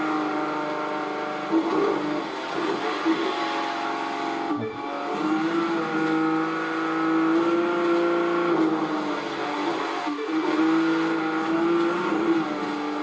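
A car in The Crew 2 racing game accelerates hard through its gears, a loud steady engine drone with rising pitch and brief drops at each gear shift.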